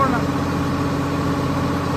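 Swaraj 969 CRDi tractor engine held at raised revs in haulage mode, a steady, loud, close diesel drone throughout.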